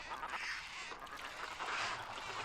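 Ducks quack and honk steadily in a video game, a dense run of close, fairly loud calls filling the whole stretch with no talk over them.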